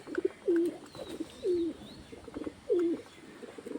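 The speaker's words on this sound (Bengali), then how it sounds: "দেখো একটা পায়রা এসেছে" A domestic pigeon coos nearby in three or four soft, rounded phrases at a slow, regular pace, with faint chirps and small clatters between them.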